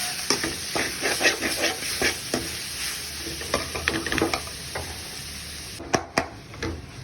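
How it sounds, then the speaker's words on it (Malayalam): Chicken liver stir-frying in a pan, with a steady sizzle and a run of scraping stirring strokes close by, ending in a few sharper clatters of the spatula. "ഒരു 2 മിനിറ്റ് നമുക്കിതൊന്ന് ചട്ടിയിലിട്ട് വറുക്കും"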